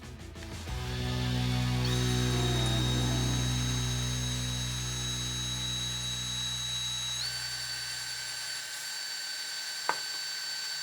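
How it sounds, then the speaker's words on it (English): A battery-powered drill, lubricated with WD-40, bores holes in metal. It spins up into a loud, steady, whining tone that holds and shifts pitch partway through, then winds down, ending with a single sharp click. "I don't have a drill press, so I'll be using this battery-powered drill."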